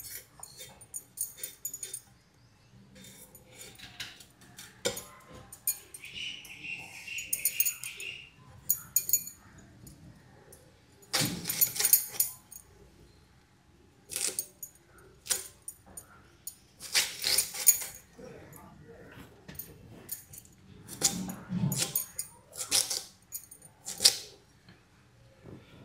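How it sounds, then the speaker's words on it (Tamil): A knife chops through a tuber on a board in a home kitchen, giving scattered bursts of sharp taps and knocks, some close and loud, with quieter clinks and handling noises in between. "என்ன கிழங்கு அரிஞ்சு முடிஞ்சிட்டா?"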